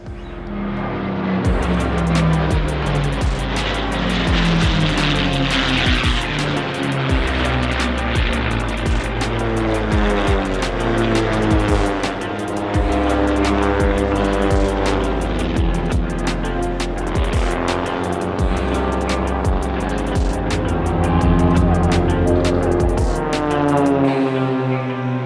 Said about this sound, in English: Jack Aces are landing in here.